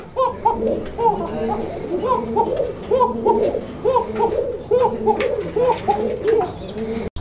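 Male and female pigeons cooing together in a repeated, rhythmic series of soft throaty calls, close and steady throughout, with faint background activity.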